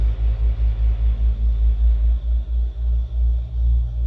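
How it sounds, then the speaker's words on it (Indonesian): A deep, rhythmic rumbling vibration from a truck passing in front of a school pulses steadily, with no voices over it. "Mungkin efek dari truk yang lewat teman-teman."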